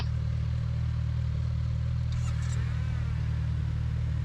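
A motorcycle engine runs steadily with a loud, even low drone throughout, with a faint brief squeak midway and no speech.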